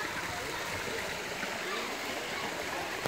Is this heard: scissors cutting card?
no